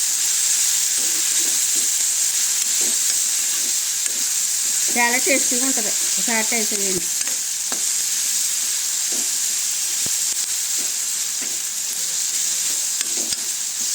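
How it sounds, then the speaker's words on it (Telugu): Prawn peels and onion pieces sizzle and fry steadily in a pan while being stirred, a continuous loud hiss with occasional scraping clicks, and someone speaks briefly over it midway. "ఉల్లిపాయ ముక్కలు రొయ్యలు బాగా వేగాలండి"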